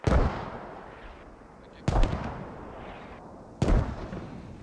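Mortar fire in a flag-capture video game match: three heavy booming thuds about two seconds apart, each with a sharp onset and a decaying rumbling tail, fairly loud and without talk.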